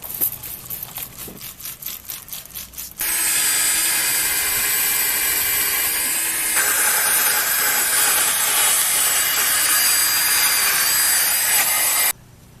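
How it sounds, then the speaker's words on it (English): Hand-sanding an 18-year-old car headlight with 1500-grade sandpaper: a few soft, rhythmic scrubbing strokes, then a loud, close, continuous gritty rasp for about nine seconds before it stops abruptly. "So we finished with 800 grade sandpaper and continuing with the 1500."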